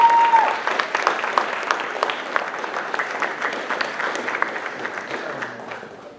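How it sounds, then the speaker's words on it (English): Audience applause at an extra-curricular awards banquet, a steady wash of many hands clapping that starts loud and slowly fades over several seconds, with no talk over it. "Clap,"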